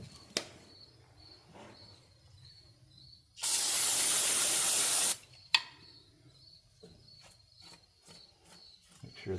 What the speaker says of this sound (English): Let me get some brake clean.